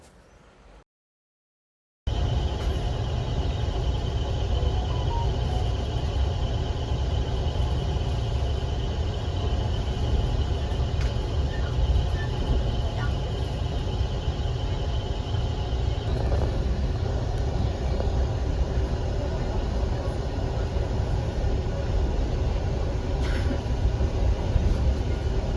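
A constant low rumble and hum inside a moving GO Transit commuter train carries on steadily after a brief silence, with no voices.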